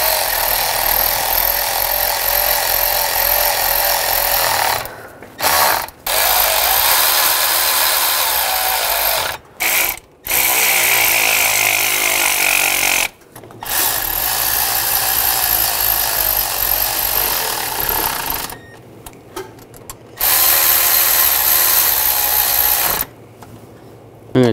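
A ratchet snugs down the bolts on the water pump of a 2015-2020 Ford F-150 V6. Loud, close, continuous mechanical whirring comes in long bursts separated by short pauses, with no talking.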